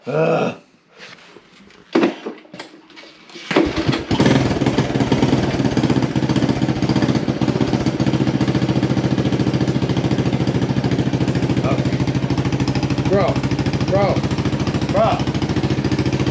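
A Honda ATC200S three-wheeler engine fires up after a few seconds of handling noise, then idles steadily and loudly while warming up, with a brief word spoken near the start.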